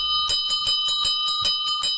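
A bell rings in a quick, steady series of about ten bright metallic strikes over two seconds, loud and close with a sustained ringing tone between hits and no talking.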